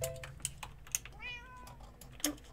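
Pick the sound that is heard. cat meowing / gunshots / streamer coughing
cat meowing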